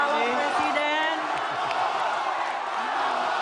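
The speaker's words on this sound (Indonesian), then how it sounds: "Boleh tepuk yang tangan meriah tentunya bagi para calon presiden" Crowd at a 2019 Indonesian presidential candidates' debate cheering and applauding in a hall, a steady loud roar of whoops and claps that holds evenly throughout, with voices mixed in.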